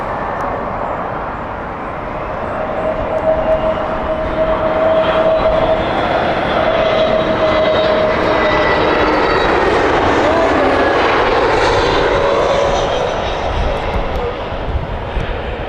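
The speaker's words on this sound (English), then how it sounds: "Aer Lingus, I believe this is the same Aer Lingus we saw earlier on." An Aer Lingus passenger jet at Heathrow Airport, its engines producing a loud, steady roar that swells and holds for the whole stretch, with a faint voice talking beneath.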